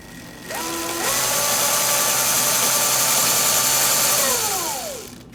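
Primary chain on a Sur Ron Light Bee electric dirt bike, a 219 chain kit, turning at low speed: a steady mechanical whir with a rising then falling whine, close and moderately loud, no talking.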